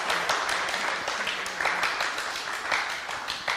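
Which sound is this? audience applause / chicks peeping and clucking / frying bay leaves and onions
audience applause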